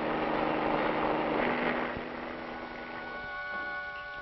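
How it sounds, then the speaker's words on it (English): A steady droning helicopter engine hum with tonal whine, a 1958 traffic-reporting helicopter at moderate distance, fading slightly partway through. "Reporters in helicopters get a bird's eye view of traffic conditions"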